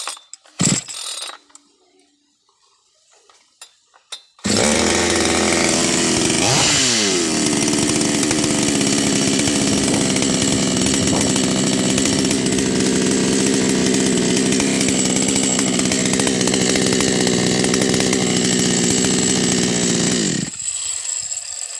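A chainsaw with a damaged silencer starts after a few quiet pulls and clicks, then roars loudly and steadily for about fifteen seconds with a slight pitch rise early on, alone and close.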